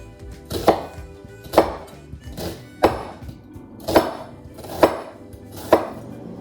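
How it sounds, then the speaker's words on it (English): Six evenly spaced knife chops on a cutting board as peeled food is sliced into thin strips, each a crisp, close thunk about a second apart, with no talking. "Now I'm gonna cut in little lines again like the tomato."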